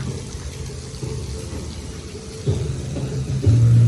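Water splashing and running in an empty splash zone at Legoland California, a steady wash of spray with low rumbling flow that swells louder near the end.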